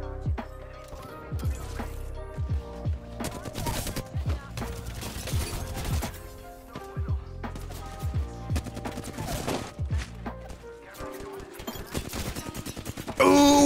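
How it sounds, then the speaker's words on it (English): Gunfire from enemy teams surrounding the player in Apex Legends: loud, dense bursts of automatic and single shots crackle almost nonstop, with brief lulls between volleys. "there is a team in every direction just shooting at us"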